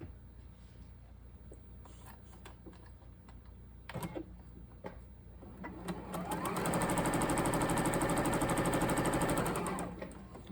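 After some quiet handling clicks and rustles, a sewing machine starts up and runs in a sustained, steady hum for several seconds, sewing quilt squares in a straight line, then winds down near the end.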